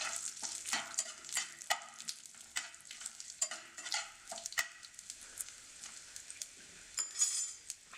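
Crushed garlic cloves fry in a pan with a steady sizzle, broken by stirring scrapes and light utensil clinks, heard up close with no talk.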